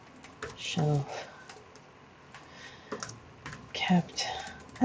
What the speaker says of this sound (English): Really having trouble typing today.